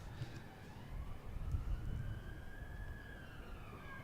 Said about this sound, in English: Police van going past the ground at the minute with its siren